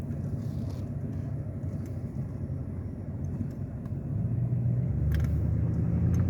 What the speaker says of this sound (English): then the truck passes by